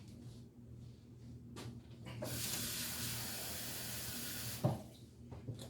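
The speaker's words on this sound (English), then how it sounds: "I think I'm going to add a couple more cups of water." Tap water runs steadily into a cooking pot holding broth and a ham hock for black-eyed peas, a broad hiss that starts after about two seconds and continues to near the end, with a brief clank toward the close.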